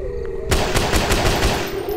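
Rapid automatic gunfire from a weapon in a zombie shooting video game, a loud close burst of evenly spaced shots starting abruptly and continuing steadily to the end.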